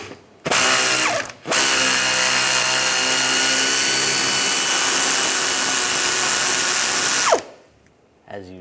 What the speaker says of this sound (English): the stud is gonna spin, so we're just gonna hold that on there. Using a T30 socket.